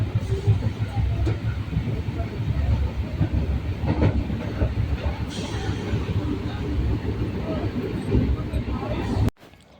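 A passenger train runs along the rails near Jammu station, a steady rumbling clickety-clack filling the carriage beneath a murmur of people talking, ending with a sudden drop-off.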